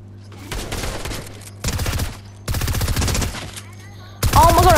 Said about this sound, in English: I'm getting shot from every angle.